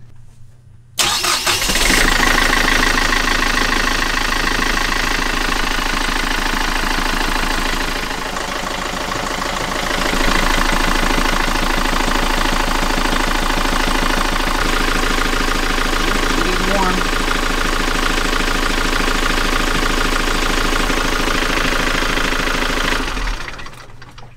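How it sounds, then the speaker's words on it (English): Sailboat's inboard engine cranks and catches, then idles steadily and loudly for over twenty seconds, a dense rattling drone with a brief dip midway. "I'm gonna go start the engine."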